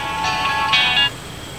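A telephone ringtone rings loud and close in two short electronic bursts, then cuts off.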